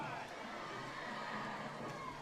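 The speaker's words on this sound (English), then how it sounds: "The crowd is really into it. You can really hear them half a block away." Oil Heritage Parade crowd cheering from half a block away as a high school cheerleading squad approaches, a steady, fairly faint wash of voices and shouts with no clear peaks.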